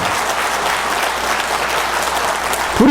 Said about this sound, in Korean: 박수 치려면 확실히 치라.